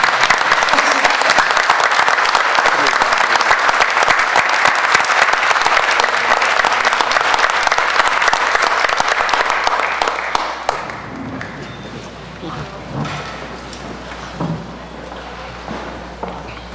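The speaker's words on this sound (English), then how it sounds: "Let's give Josiah a big round of applause this evening." Loud, dense applause fills a school board meeting room for an elementary Student of the Month honoree, sustaining strongly for about ten seconds before fading to scattered claps, shuffling and room noise.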